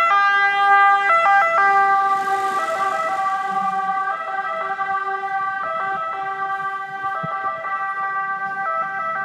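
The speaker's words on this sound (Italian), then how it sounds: "Ed ecco un'altra unità dei vigili del fuoco che sta arrivando." A loud two-tone fire engine siren wails continuously as the unit arrives at a building fire in Scandicci, Italy, alternating steadily between high and low pitches, with traffic rumbling faintly underneath.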